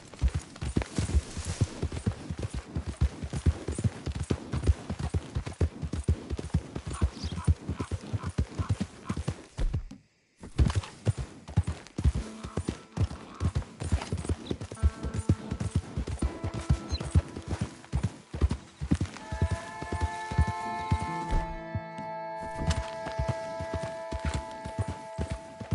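Horse riding in Red Dead Redemption 2, with a continuous clip-clop of hooves at a steady gait, close and prominent, broken by a brief pause, as sustained musical tones rise beneath the hoofbeats.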